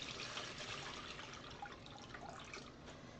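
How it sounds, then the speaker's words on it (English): Water poured steadily into a shoebox to start a wool-roving dye bath, a continuous close splashing and trickling wash with no talk over it. "In my shoebox here, I'm adding 8 cups of water."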